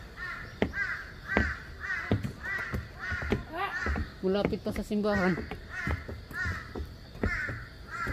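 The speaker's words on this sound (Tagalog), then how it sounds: "Umuingay ang uwak oh." Crows caw repeatedly in a steady series of harsh calls outdoors near Busan Tower, South Korea, with a person talking briefly over them.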